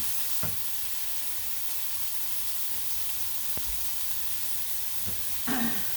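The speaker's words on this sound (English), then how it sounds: "I'm going to turn it down halfway so it doesn't cook too fast" Meat for a chunky spaghetti sauce sizzling in a pan on lowered heat, a steady soft frying hiss with a few clicks and a brief utensil scrape near the end, no voices.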